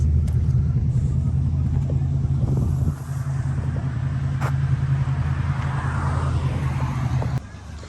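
A Ford hot rod at a cars and coffee show in Bonville gives a steady, deep low rumble that drops slightly partway through and cuts away near the end.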